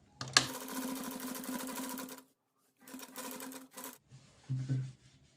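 A sewing machine stitches the neckline of a circle frock in a fast, whirring burst of about two seconds, then a few shorter runs and a low thump, close and fairly quiet.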